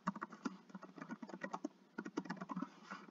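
Quiet, steady typing on a computer keyboard, a brisk run of light key clicks with small pauses, close and alone with no talk.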